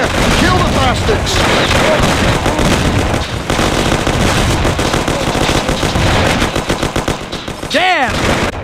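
Dense gunfire in a Mafia: The City of Lost Heaven shootout on PC: rapid bursts of automatic fire and single loud shots come close and nonstop. Shouting voices break through near the end.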